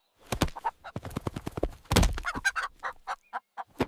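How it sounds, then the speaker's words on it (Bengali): Chicken clucking in a comedic Ramadan skit about a red hen being stolen, a run of short clucks and squawks of varying loudness with no talk over them. "ওরে মুরগি ভাই,"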